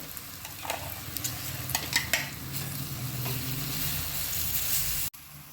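Red chili thecha fries in a pan with a continuous close hiss and sizzle, broken by several scraping stirs early on, before cutting off abruptly near the end; no one speaks.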